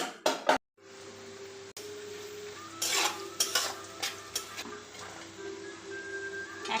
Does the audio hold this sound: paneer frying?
yes